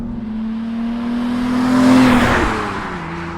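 An MG car's V6 engine accelerates hard, a loud rising growl that swells to a peak mid-way, then eases as the tone shifts, heard close and without speech.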